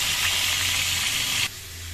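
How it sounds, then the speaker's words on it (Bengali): Rohu fish pieces frying in hot oil give a steady, close sizzling hiss over a low hum, with the crackle dropping off sharply near the end. "রুই মাছগুলো ভেজে নিই, আলু দিয়ে রুই মাছ রান্না করবো।"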